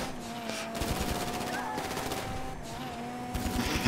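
Rapid bursts of automatic gunfire in Grand Theft Auto V rattle out in several rhythmic volleys with short pauses, steady and fairly loud throughout.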